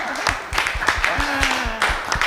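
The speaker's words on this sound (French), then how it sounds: "On l'applaudit quand même." Applause at a talk on obstacles to women's leadership and entrepreneurship, a short burst of clapping heard under and between voices talking over it.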